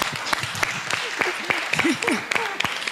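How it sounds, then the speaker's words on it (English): Audience applause at a startup summit in Nairobi: a short burst of scattered claps from a seated crowd, close and lively, with voices talking over it. "A round of applause."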